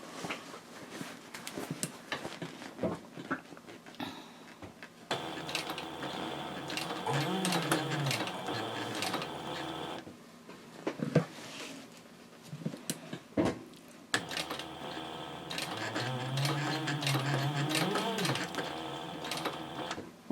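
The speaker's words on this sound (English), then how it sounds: "I'm stitching approximately 1/8 of an inch away from the edges" A sewing machine stitches a handbag about an eighth of an inch from the edges, whirring steadily in two long runs separated by brief pauses, with faint rustling and clicks of fabric handling between them.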